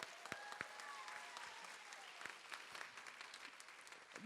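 An audience at a This Is My Brave event in Los Angeles applauds the lobby musician, a fairly faint, steady wash of many hands clapping with a few sharper claps standing out and occasional voices underneath.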